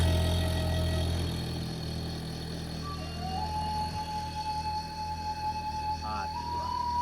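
A vehicle engine on a busy road hums steadily at close range, its drone rising gently as the throttle opens, with faint whining tones and traffic noise mixed in.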